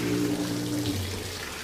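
Water running from a tap in a motel or lodging washroom, a steady close rush with a low hum that holds briefly and then fades to a softer flow.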